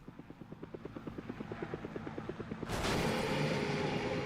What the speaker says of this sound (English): There goes the chopper